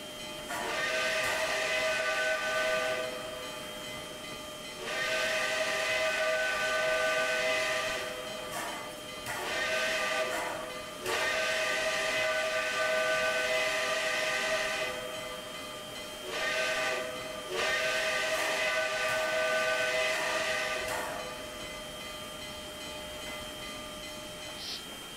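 A steam-style train whistle sounds in the Trainz rail simulator on the WK&S route at a freight crossing: several long, loud blasts with short gaps between them, over a steady rumble of the train.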